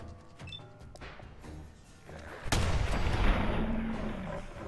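Gunfire in Fallout 4: a few crisp shots early on, then a loud, booming blast that rolls into a sustained rumble, heard alone without speech.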